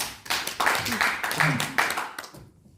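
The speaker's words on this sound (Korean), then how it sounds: "그 농장 주인에게 박수 한번 보내주세요." An audience at a lecture on living a happy life breaks into clapping, with a voice speaking over the brief burst of hands before it fades out.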